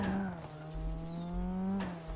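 A game car in the Universal Vehicle Controller asset for Unity drifts, its engine droning steadily and close while a tire squeal rises and falls across a couple of seconds.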